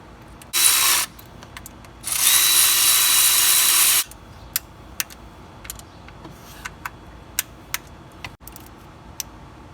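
A power tool snugs down the water pump bolts on a Ford F-150 with a 3.5L EcoBoost engine, giving two loud whirring bursts, the second one longer, followed by quieter scattered clicks and clanks of tools.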